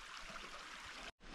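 Creek water trickles steadily in a wooded canyon of the Sipsey Wilderness, Alabama, a soft continuous broadband wash heard alone, with a brief dropout near the end.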